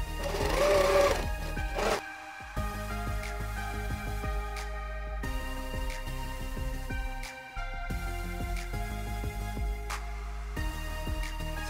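An electric sewing machine stitches the hem of a cloth apron, a steady close whirring drone with a rapid needle rhythm, pausing briefly a few times before running on alone.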